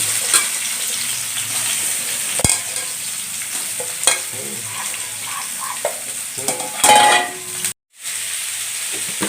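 Cut kuduli pieces with broken green chillies and turmeric fry in hot oil in a pan for a Bengali masala fry. A steady close sizzle runs throughout, broken by scraping stirs and spatula knocks.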